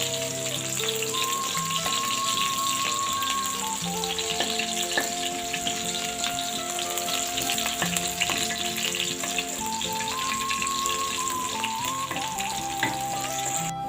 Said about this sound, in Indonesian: Bawang merahnya kita tumis sampai layu